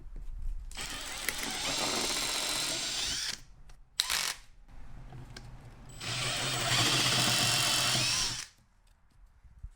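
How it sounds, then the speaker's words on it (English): Two loud bursts of a power drill with a 1/4-inch bit whirring through material in a RAM Promaster 2500 van roof, separated by a short pause with brief clicks, close by. "we're going to drill a hole for the bolts using a 1/4-inch drill bit"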